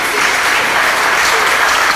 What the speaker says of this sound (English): Let's give a good salute of applause for all of our senior citizens.